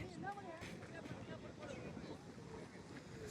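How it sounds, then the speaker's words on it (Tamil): Strong wind buffets the microphone at an outdoor cricket ground during a village match, a steady broadband roar with gusty low rumble running throughout the clip. "காற்று செம்மையாக அடிச்சுக்கிட்டு இருக்கு இங்கே இந்த பக்கமாக"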